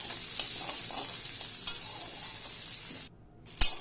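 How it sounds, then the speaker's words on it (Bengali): Chopped onions and green chillies sizzle in hot oil while being stirred for a Bengali fish curry with taro. A steady, close frying hiss runs throughout, briefly drops out near the end, then returns with a sharp clink. "এগুলোকে ভালোভাবে নেড়ে চেড়ে নিয়ে মিশিয়ে নেব এবং হালকা কালার আসা অবধি পেঁয়াজগুলোকে ভেজে নেব।"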